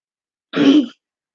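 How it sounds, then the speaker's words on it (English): A single short cough or throat clear, close and fairly loud, lasting under half a second amid silence. "Please excuse the cough."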